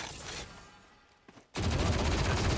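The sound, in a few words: Odin machine gun firing in video game Valorant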